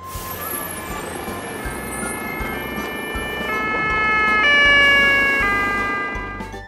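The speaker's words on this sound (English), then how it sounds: "police bus." A police bus siren wails in rising and falling tones, steady and fairly loud throughout, swelling slightly toward the middle over a low engine rumble.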